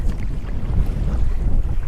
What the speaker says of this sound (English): As soon as we take off, it's windy again.